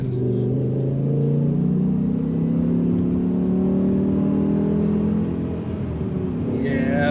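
A 2007 BMW M6 coupe accelerates hard from inside the cabin, its engine rising in a steady, loud climb over about seven seconds with a continuous rumbling drone.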